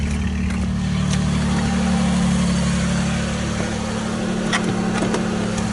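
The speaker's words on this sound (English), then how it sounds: "something in the exhaust system is messed up because you can hear the gargling noise that it makes" A car engine idles steadily with a low, uneven burbling rumble from the exhaust, continuous and close, with no talking.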